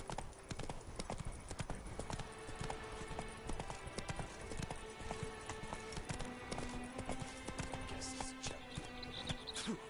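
Hooves of the horse Roach clip-clop in a fast, steady gallop in The Witcher Wild Hunt, loud and continuous with no pause.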